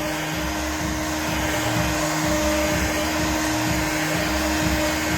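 A heat gun warms a car body panel ahead of paintless dent repair glue pulling, giving a steady, close, unbroken blowing roar with a constant hum for the whole stretch and no talking.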